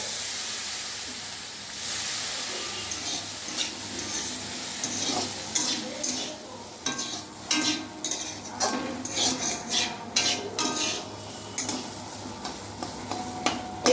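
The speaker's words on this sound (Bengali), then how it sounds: "এইভাবে আমি কিছুটা সময় ভেজে নেব" Semolina fries and is stirred in a pan for sooji pulao, giving a steady close sizzle with scraping spoon strokes and metallic clinks that grow busier and more rhythmic partway through.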